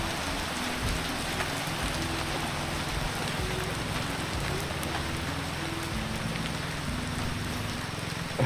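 Steady, dense rain falling continuously, a broad hiss of drops on surfaces with no pauses and no voices.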